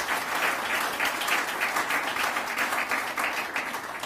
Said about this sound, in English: He deserves applause.